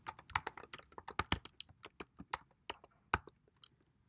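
Quiet close typing on a computer keyboard, irregular clicks and taps in quick clusters with a few sharper keystrokes and short pauses, no speech.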